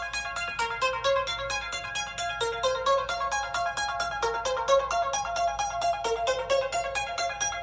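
A synthesizer plays a bright, bell-like arpeggiated pattern of rapid repeating notes, steady and fairly loud throughout, with no talking over it.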